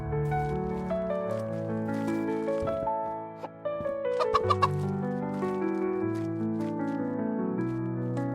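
Chickens cluck in their pen in the farming game Rancher A New Life, with short, scattered clucks sounding over steady background game music.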